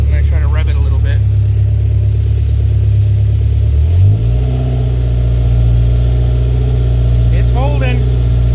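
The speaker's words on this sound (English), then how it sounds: "I'm going to try to rev it a little bit." A Toyota MR2 engine on a dyno idles loudly and steadily, then dips and settles into a lower, even drone around the midpoint, with a brief rise near the end, close and continuous.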